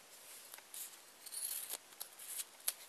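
Scissors cutting tape to trim the sides of a tape bow: quiet, close snips and crisp clicks scattered irregularly through a few seconds.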